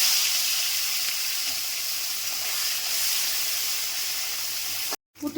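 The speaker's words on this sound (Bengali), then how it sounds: "পুঁটি মাছগুলো ভেজে নেব।" Puti fish sizzle in hot mustard oil in a wok, a steady, hissing fry held close and even for several seconds before cutting off abruptly.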